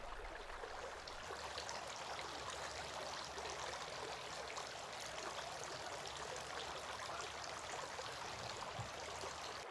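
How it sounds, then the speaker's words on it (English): Tap water runs in a steady faint stream during nose rinsing for ritual ablution, an even trickling hiss throughout with no talk. "Then he sniffed water into his nostrils using his right hand and blew out using his left hand 3 times."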